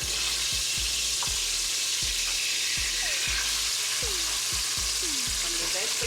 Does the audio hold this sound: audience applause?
no